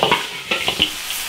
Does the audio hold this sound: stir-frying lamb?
yes